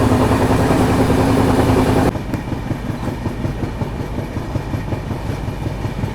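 A Humsafar special train runs on rails near Sonipat Junction with a loud, steady rumble and rhythmic clickety-clack that drops in level partway through, continuous and close, with no talk.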